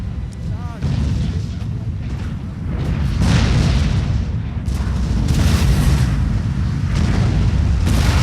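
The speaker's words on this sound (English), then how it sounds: "My howitzers doing a really good job getting some of their units in the kind of mass cluster of troops going on" Howitzer artillery in a Napoleon Total War 3v3 battle booms repeatedly, heavy blasts rolling over a dense, continuous battlefield din with distant crackling fire.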